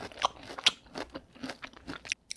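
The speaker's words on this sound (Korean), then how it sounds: "아삭아삭 씹을 수 있어서 그건 좀 좋네요" Crisp cabbage in spicy mala tteokbokki is chewed close to the mic, giving a quick series of sharp, moist crunches and bites with no talking.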